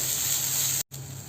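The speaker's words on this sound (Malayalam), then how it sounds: "ഇനി നമുക്കിത് നന്നായിട്ടൊന്ന് ഇളക്കി യോജിപ്പിച്ച് ഒന്ന് വറുത്തെടുക്കാം." Dried shrimp roasting in hot oil in a pan for a chutney gives a steady, close hiss of sizzling that drops out for a split second near the end, then carries on.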